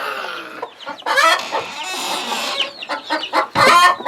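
Several chickens clucking and squawking close by on a small island farm, overlapping bursts of cackling calls.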